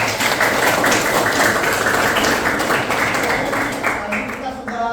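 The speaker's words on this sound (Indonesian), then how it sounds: "Nah, so, dulu, tepuk tangan." Applause from a classroom of vocational networking students fills the room, a dense, steady patter of many hands clapping close by that holds for about five seconds, then thins slightly toward the end.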